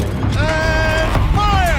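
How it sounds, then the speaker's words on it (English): Tank turret rotating in Horizon Zero Dawn, a short mechanical whine that glides in pitch with creaking gear tones, heard twice in quick succession over a low rumble. "Rotate turret!"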